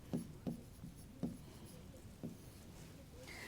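Chalk or marker tapping and scratching on a classroom board, four distinct knocking strokes spaced irregularly and heard close but soft over a quiet room hum, with no talking.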